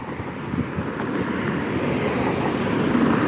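Wind blowing outdoors on a breezy, overcast day, a steady broadband rush with buffeting on the microphone that holds constant and swells slightly toward the end, with no talking.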